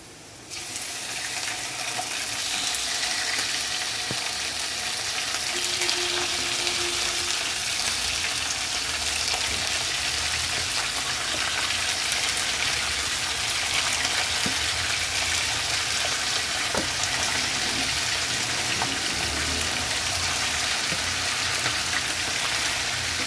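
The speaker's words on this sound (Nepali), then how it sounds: "अब यसमा म मासु हाल्छु।" Chicken meat frying in a pan for a Nepali-style fried chicken curry, a loud, steady sizzle running continuously throughout with no talking.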